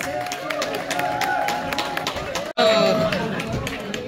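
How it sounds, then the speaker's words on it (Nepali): An audience at a Losar party claps for the snack organizers. The applause is a steady patter of many hands under a voice on a loudspeaker and crowd chatter, and it cuts off briefly once before resuming. "उहाँलाई पनि जोरदार ताली प्लिज"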